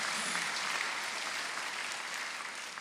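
A church congregation at a Myanmar sermon claps together in dense, steady applause that holds for nearly three seconds and tapers slightly at the end.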